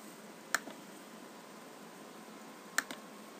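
Two isolated keystrokes on a computer keyboard, a number being entered in 3D software: crisp, close clicks about two seconds apart over a quiet room hiss.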